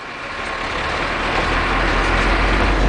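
A heavy truck drives through an underground quarry, making a loud, steady, low engine rumble with broad road and tunnel noise that builds slightly and holds throughout.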